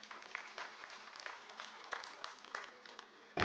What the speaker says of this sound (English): I would request all of you to put a big round of applause for everybody present.